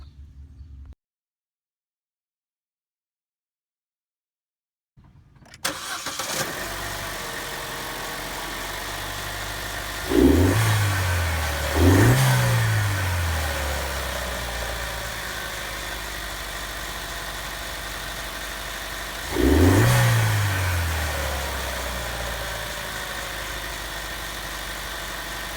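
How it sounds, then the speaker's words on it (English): A Chevy Cruze 1.4 fitted with a cold air intake cranks over and settles into a steady idle, then the engine is revved three times in short bursts with a louder rise on each, heard close up. "I think next step is start it up and see what it sounds like."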